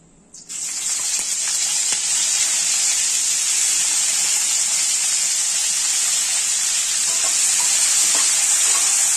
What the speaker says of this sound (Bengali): এবারে কড়াতে সর্ষের তেল দিয়ে দিয়েছি। এর মধ্যে এবার দিয়ে দেবো আলু ফুলকপিগুলো।